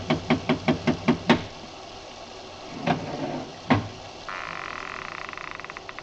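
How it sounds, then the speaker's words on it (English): Rapid knocks of a bronze idol against a door in an old radio drama scene: about six quick raps in a row, then two heavier single knocks a moment later, ending on a steady hum and flutter. "I lifted the bronze idol and rapped on the door with it"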